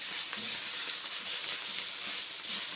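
Egg noodles frying in a large kadai give off a steady, even sizzle and hiss throughout, moderately loud and close, with faint stirring underneath.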